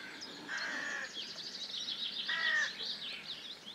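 A small wild bird, perched up high while being hand-fed, gives two short harsh calls about two seconds apart against a soft chirping outdoor background.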